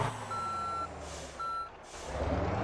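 Garbage truck in the Motor Town video game, fitted with the biggest motor and a turbo upgrade, sounds two steady reversing beeps of even pitch over a low engine rumble that swells near the end.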